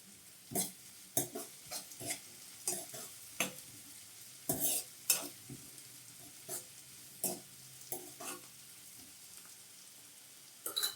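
Onions with salt stir-fry in an iron pan, giving a quiet sizzle with frequent sharp spatula scrapes and knocks at an uneven rhythm, close by and free of talk.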